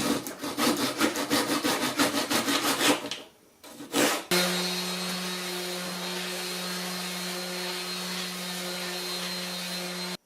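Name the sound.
sawing off the end of a wooden dowel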